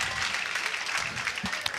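Spectators at a US Open pickleball match applauding, a brief dense patter of clapping with a few sharper claps at the end.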